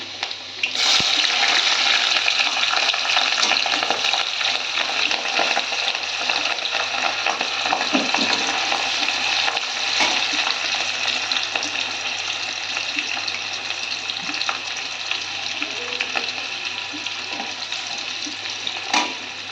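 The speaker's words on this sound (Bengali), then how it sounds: "আদা কাঁচা লঙ্কাটা আমার ভাজা হয়ে গেছে।" Ginger and green chilli fry in hot oil in a kadai after the garlic, part of a dhaba-style egg tarka. A loud, steady, continuous sizzle runs throughout with no talking.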